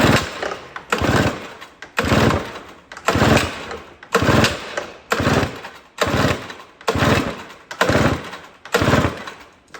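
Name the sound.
trying to start an old snow blower engine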